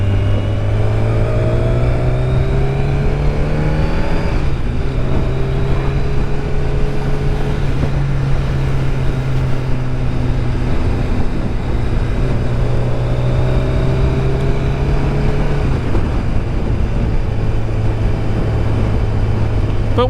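A Kawasaki ZZR1100 motorcycle engine under way on a twisting road, droning steadily close and loud, its pitch rising through the gears and dropping at each shift.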